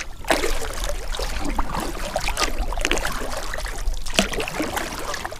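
Kayak paddle strokes splashing and dripping through water close by, a steady rhythm of dips and trickles.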